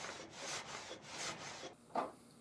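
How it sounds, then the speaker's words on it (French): Hand saw ripping a wooden plank lengthwise in a steady back-and-forth rhythm, with three rasping strokes and a sharper final scrape, close and fairly quiet. "Donc la scie fait un mouvement de va-et-vient, elle monte et elle descend"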